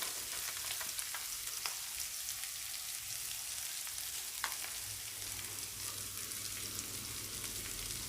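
Masala fries in a hot pan for chickukudukaya vepudu, a steady loud sizzle with scattered scraping stirs and a few sharper clinks throughout.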